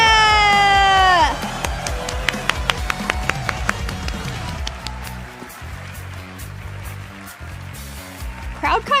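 Event crowd cheering and clapping at the Summer Game Fest stage show, a broad steady wash of applause with scattered sharp claps and whoops, heard under ongoing talk.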